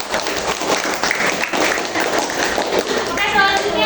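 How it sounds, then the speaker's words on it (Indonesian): A class of students claps for a group after a presentation on the water cycle, a moderately loud, continuous patter of hands under faint background chatter. "boleh kita tepuk tangannya semuanya"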